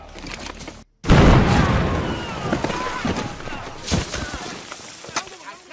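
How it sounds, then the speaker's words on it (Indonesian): A sudden loud landmine blast after a brief silence, followed by a long rumbling roar with debris and scattered shouting. "Saat itulah terjadi ledakan yang berasal dari ranjau yang sebelumnya telah dipasang oleh si letnan."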